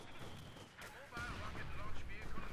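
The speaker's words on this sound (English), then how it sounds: "Though they do have a heavy mortar, which should help. And it seems to be helping." Heavy mortar fire in the World War II strategy game Company of Heroes 2, with dense, rumbling battlefield booms and crackling gunfire that continue steadily, growing louder partway through.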